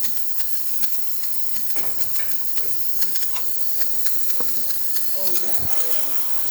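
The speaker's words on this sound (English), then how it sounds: "then it will deliver the steam that you see right here, and it will slowly build up pressure" Steady broadband hiss from the steam wand of a Gaggia espresso machine building pressure, continuous and fairly close, with faint clicks and mechanical rattles mixed in.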